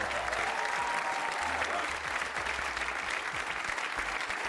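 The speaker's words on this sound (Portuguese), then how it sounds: "Um aplauso para o Arthur" Steady applause from a television game show studio audience fills the space, dense and continuous clapping at even strength throughout, with a faint murmur of voices underneath.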